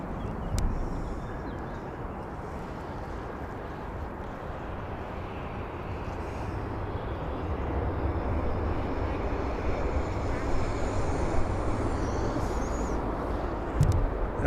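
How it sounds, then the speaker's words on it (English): An Aer Lingus airliner departs from Birmingham Airport, a steady broad engine roar at a distance that holds level and swells slightly toward the end, with no one talking. "Aer Lingus departing."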